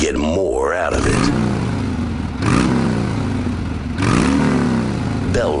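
Motorcycle engine in a Bel-Ray motor oil advert revs hard in repeated rising bursts, about three loud surges that climb and fall, with a voice faintly over it.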